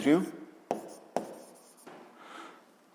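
A pen or pencil writes on paper during a physics lesson, with short scratching strokes and a couple of sharp taps against the desk, close and soft, interleaved with a voice talking.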